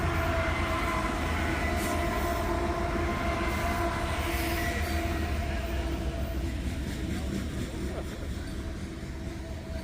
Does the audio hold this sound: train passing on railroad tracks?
yes